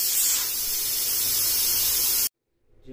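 A loud, steady rush of steam hissing from a pressure cooker of mutton being opened, lasting over two seconds, then abrupt silence with a faint rustle at the end.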